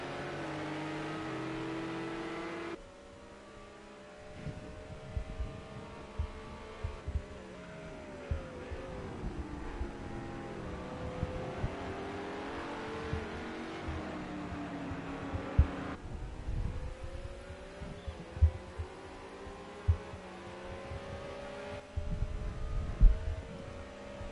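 Race car engines at Imola in the Project Cars 2 racing game, several motors whining and shifting pitch as they accelerate along the straight, with a steady hum and occasional thumps underneath.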